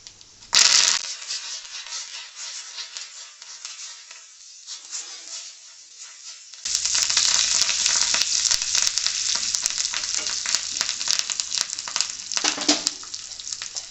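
Dried red chillies, curry leaves and turmeric sizzle and crackle in hot oil, a tempering for a lemon pickle. A sharp burst comes first, a quieter stretch follows, then a loud, steady frying hiss that continues to the end.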